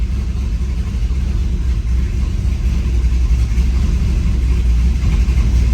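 A Chevy S-10 with a swapped LS V8, just restarted after an oil pump replacement, runs at a steady, rumbling idle, loud and close with no talk.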